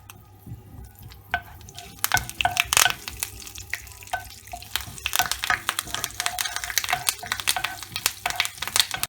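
Curry leaves, whole mustard seeds and whole cumin sizzle in hot oil for a mushroom and capsicum curry, crackling and spitting in loud irregular bursts with sharp pops over a steady fry.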